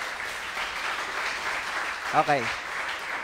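Congregation applauding during a church sermon, steady clapping from many people at some distance, with a single voice speaking briefly over it partway through.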